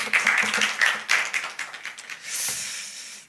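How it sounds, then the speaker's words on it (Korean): A congregation claps together during a Wednesday church worship service, a dense burst of hand claps that fills the room and fades toward the end. "우리 하나님께 영광의 박수 올립시다."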